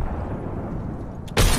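Frag grenade exploding in the video game Apex Legends, one loud sudden burst that breaks in after a stretch of low rumbling background and holds to the end.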